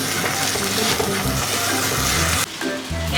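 Noodles stir-fried in a hot pan for a Thai home-style dish, a loud continuous sizzle and frying crackle with scraping and tossing, briefly dipping near the end.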